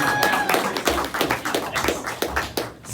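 Audience clapping at a stand-up comedy show, a brief burst of scattered, uneven claps from a small room crowd, mixed with faint murmuring.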